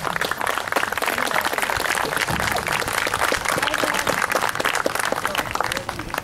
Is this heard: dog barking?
no